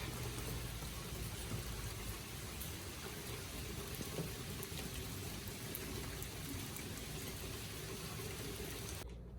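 Steady rain falling outdoors, a soft, even hiss of drops on surfaces heard at a distance, faint and unbroken, with no talking, and the sound cutting off sharply at the very end.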